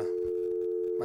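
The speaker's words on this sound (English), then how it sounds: "That's the old dial tone from the 1950s." A steady, unbroken 1950s electromechanical city telephone dial tone hums at an even level throughout, a single low buzzing pitch with faint line noise beneath.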